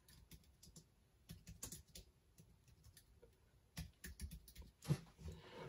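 Someone types a comment on a computer keyboard in quick, irregular bursts of light key clicks, with close, crisp taps and brief pauses between words. There is no talking.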